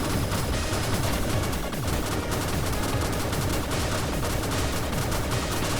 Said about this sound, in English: And this is basically a machine gun.